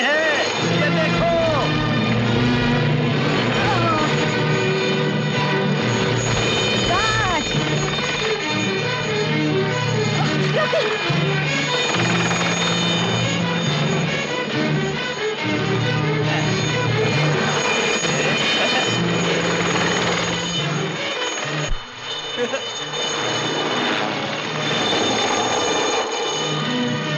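Helicopter rotor and engine in a Hindi film climax scene, a loud continuous mechanical roar with steady throbbing beats, running unbroken for nearly half a minute.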